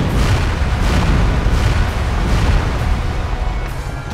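Artillery shelling in the Theatre of War video game forms a dense, continuous roar of booms and rumbling blasts, loud and unbroken.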